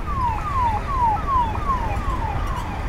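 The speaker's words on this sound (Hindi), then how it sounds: "एम्बुलेंस दो चली गई लेकिन रुक ही नहीं रही यार।" An ambulance siren wails at a busy main intersection after a road accident, with repeated falling sweeps in a steady, continuous cycle over road noise, moderately loud throughout.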